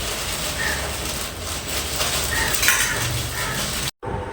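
Meat cooking in a pot at night in a home kitchen, with a utensil scraping and clinking against the pot over a steady sizzle, fairly close, alone without talk, then a brief cut near the end.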